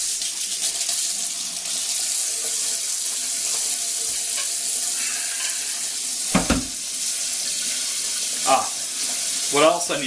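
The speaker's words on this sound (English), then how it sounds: "I have to get this thing filled up with water." Tap water runs steadily into a pressure cooker that will be used for dyeing puzzle parts. The hiss is continuous, with a few clinks and knocks of the pot near the end.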